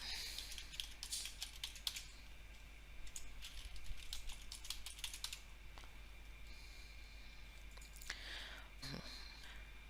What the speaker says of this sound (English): Now enter your password.